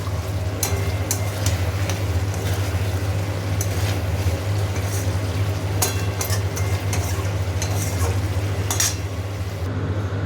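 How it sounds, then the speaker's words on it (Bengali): Fish cooks down in oil in a pan, a low steady sizzle under frequent clinks and scrapes of a spoon against the pan, with no voices. "দিয়ে দিয়েছি মাছগুলো, একসাথেই একটু ভালো করে কষানো হোক, তেল ছাড়বে"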